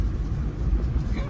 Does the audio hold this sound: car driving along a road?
yes